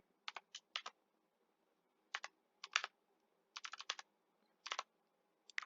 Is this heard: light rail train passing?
no